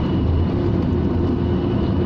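A Rover 600ti turbo car engine accelerating on the road gives a loud, steady, broadband roar that stays constant throughout with no voices.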